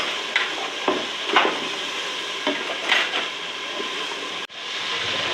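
Masala for chana dal, seasoned with salt and spices, roasts in a pan while a spoon stirs through it: a continuous close sizzle broken by several scraping strokes, then a brief cut before the frying noise resumes, with no talking.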